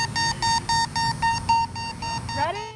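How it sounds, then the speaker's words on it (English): An oversized softball used in beep baseball for blindfolded players gives a loud, steady run of regularly spaced electronic beeps, each a short even pulse, over faint background noise. "The oversized softball beeps and the bases are foam columns."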